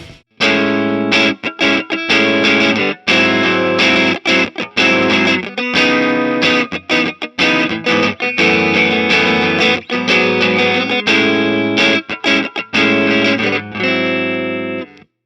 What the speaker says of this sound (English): Overdrive is most commonly used for light to medium gain distortion.